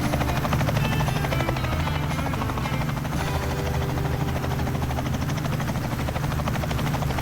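Helicopter flying in Microsoft Flight Simulator, a steady close rotor thump and turbine whine holding loud and unbroken throughout with no talking.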